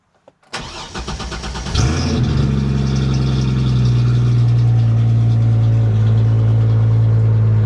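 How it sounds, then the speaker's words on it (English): A Ford Mustang engine without a full exhaust cranks and catches after a moment of quiet, then settles into a loud, steady, rumbling idle close by with no voices. "it might sound a little loud when it first gets started. We don't have a full exhaust on that"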